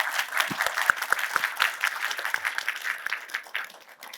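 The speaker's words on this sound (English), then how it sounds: "If we could get a quick round of applause for our panel" An evening audience claps for a panel at an art and design education event, scattered individual claps that thicken into a moderate round and then thin out.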